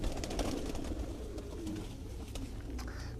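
Soft, low coos come from John Robert breed pigeons kept in Quetta. They repeat faintly against a steady murmur of background noise, with no clear talk over them.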